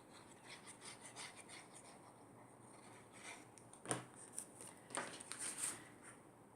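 Paper being burnished onto a scrapbook album page, a quiet soft rubbing that comes in repeated strokes and grows into a few firmer scraping passes near the end.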